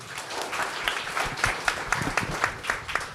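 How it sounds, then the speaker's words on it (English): An audience applauds panelists at an AI-for-impact conference session, a dense, steady wash of many hands clapping at moderate volume with occasional sharper individual claps standing out. "Just a big round of applause for our panelists"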